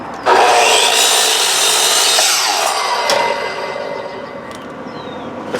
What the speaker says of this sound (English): let's go ahead and take this out to the chop box, and I'll show you how to cut these